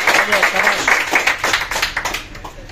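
Loud, close clapping from a gathered audience cheering for Aamir at a discipleship ceremony, a burst of hand claps that thins out toward the end, with voices mixed in.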